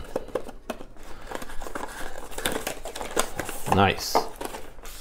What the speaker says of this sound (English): let's open the box and let's see what's come inside